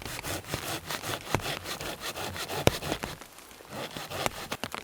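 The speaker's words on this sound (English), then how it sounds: "we align our saw blades with the direction the tree wants to fall" A hand saw cuts an undercut into a small tree outdoors, a close rhythmic rasp of back-and-forth strokes through wood with sharp scraping pulls and brief pauses.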